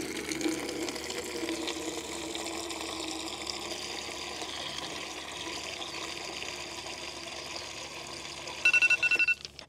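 Water jetting from a Hondata fuel injector flow test into a bucket at lower pressure makes a steady, continuous hiss and splash that holds level throughout, with a few brief louder bursts near the end.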